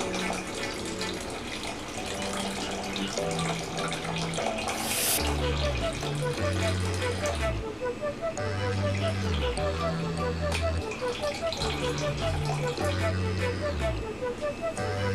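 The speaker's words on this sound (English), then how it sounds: "I will add 250 grams of water" Water, 250 grams of it, runs into a bowl of sourdough starter in a continuous pouring stream, with tonal background sounds behind it.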